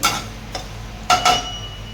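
Coriander seeds being stirred while dry-roasting in a pan for thalipeeth bhajani, heard as a few brief, close scraping strokes of a spoon over a steady low background hiss.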